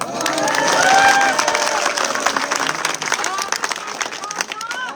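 Crowd at a Nihang Sikh gathering in Fazilka, Punjab, welcoming Vishavdeep after his release from jail, clapping and cheering together in a loud, sustained burst with voices mixed in.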